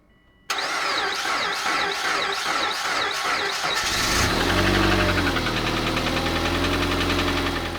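A high-mileage Subaru Forester engine cranks and catches on a cold start, then idles roughly and loudly with an uneven, knocking rumble.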